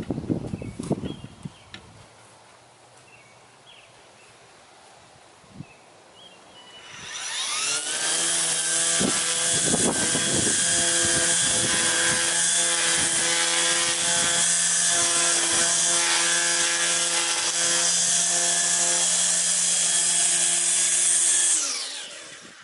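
A Ryobi RY40250 40V cordless string trimmer spins up after some quiet handling sounds, then runs steadily and loudly with a high whine while cutting for about fifteen seconds before winding down.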